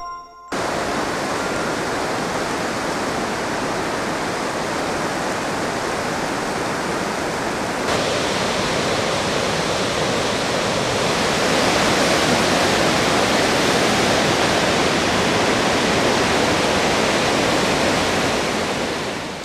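The Humla Karnali River flows as a loud, dense, continuous roar of rushing water heard close by, steady throughout without voices.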